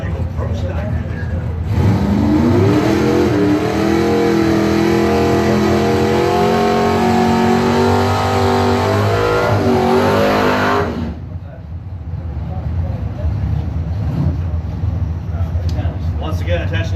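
A pro stock drag racing car revs hard at a drag strip, a loud sustained engine roar with rising pitch sweeps. It cuts off abruptly partway through, leaving crowd and track ambience with a public-address announcer talking.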